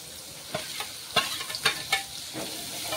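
Ground masala frying and being stirred in a pan for egg curry: a steady sizzle with several sharp scraping strokes of a spoon against the pan, close and fairly loud, with no talking.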